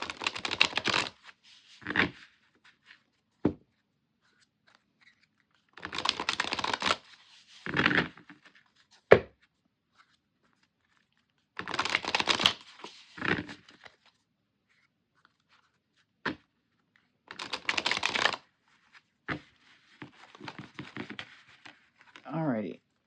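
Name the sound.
shuffling tarot cards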